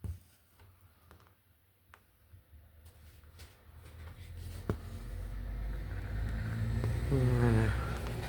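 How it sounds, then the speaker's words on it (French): Quiet indoors at first, then a truck outside rumbles in and builds to a low, growing roar as it passes, with faint small ticks and handling noises early on. "Un camion."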